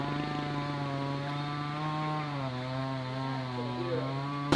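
A chainsaw cutting a tree drones steadily at high revs, a loud continuous buzzing engine note that dips slightly midway, with no voices.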